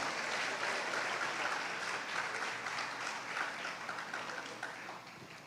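Steady, dense applause from a church congregation during a Spanish-language sermon, a continuous wash of many hands clapping at even loudness that eases slightly toward the end.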